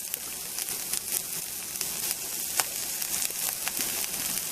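Onions and sausage fry in a camp pan, giving a steady, fairly quiet sizzle sprinkled with small pops and crackles, with no talking.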